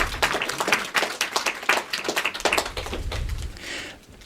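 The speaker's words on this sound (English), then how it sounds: "Give him a round of applause, everybody." Applause at a live podcast Q&A, heard as scattered, uneven clapping from a small audience, with individual claps standing out before it thins and fades near the end.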